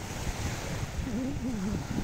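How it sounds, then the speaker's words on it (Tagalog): Ocean surf rolls onto a beach in a steady wash of noise with wind buffeting the microphone, while a faint tonal wavering sound drifts briefly underneath; no talking. "hampas ng alon ng karagatan"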